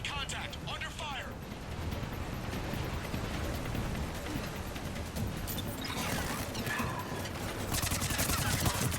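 Rapid gunfire crackles through a firefight in Mass Effect 3, bursts of shots and impacts layered under continuous talk.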